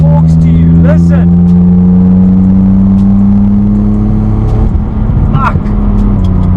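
A BMW race car engine revving loudly and steadily, its deep harmonic drone continuous throughout with a brief rise in pitch near the end, up close and filling the whole stretch.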